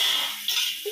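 Water poured into a cooking pan while making Maggi noodles in a home kitchen, a steady hissing, splashing pour heard close and alone for about a second.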